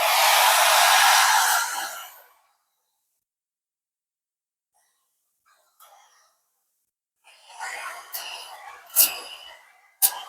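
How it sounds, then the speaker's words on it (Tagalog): A hair dryer blows loudly for about two seconds, then cuts off; after a quiet stretch, handling noises and short bursts of air follow. "ang gagawin natin is patutuyuin na natin siya ng ating blower"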